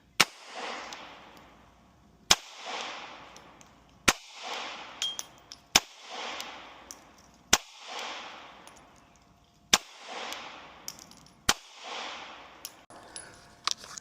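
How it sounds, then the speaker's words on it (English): An S&W Bodyguard 2.0 Carry Comp pistol in .380 ACP fires eight sharp, loud shots at an outdoor range. The shots come at steady intervals of about two seconds, and each crack is followed by a decaying echo. "we'll see how that shoots with the new Bodyguard"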